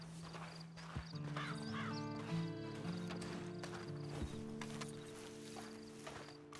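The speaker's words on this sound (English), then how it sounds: "And you better get on this horse." A horse's hooves clop slowly and a neigh rises partway through, heard over faint ambient game music in Red Dead Online.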